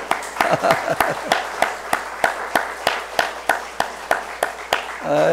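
A church congregation applauding to welcome visiting guests, sparse, evenly spaced claps that sound like a few hands in a slow rhythm rather than a dense roar, ending as a voice begins.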